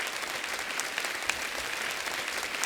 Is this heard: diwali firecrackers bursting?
no